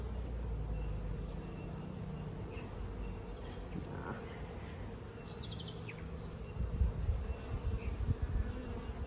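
A dense, constant hum of honeybees buzzing around an open drone frame of hatching brood in an Australian hive, close and steady, with faint chirps and soft handling noises below it.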